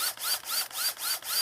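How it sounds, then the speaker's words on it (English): Drill countersinking holes in a fletching jig base, giving short rapid whirring bursts with a rising whine, five or six quick pulses in a row, close and fairly quiet. "countersink the holes, which is what I think I'm doing right now"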